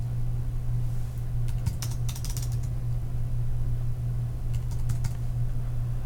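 Computer keyboard typing while entering property addresses: two short bursts of rapid key clicks, close and crisp, over a steady low electrical hum, with no one speaking.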